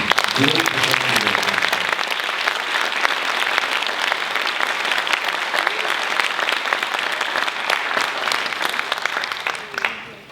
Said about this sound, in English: So I would like you to give them another big round of applause.